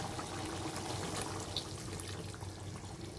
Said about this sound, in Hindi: अब हम क्या करेंगे चिकन को गलने के लिए इसमें पानी ऐड करेंगे।